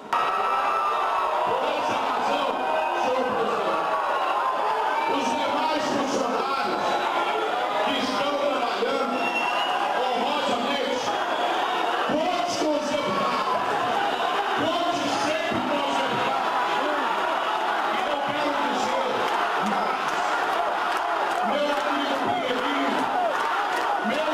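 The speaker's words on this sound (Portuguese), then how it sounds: "a galeria foi marcada por muitas vaias e um grande descontentamento" Gallery crowd in a legislative chamber booing and shouting in loud, sustained disapproval during a session on the RGA bill, a dense, continuous roar of many voices with cries rising throughout.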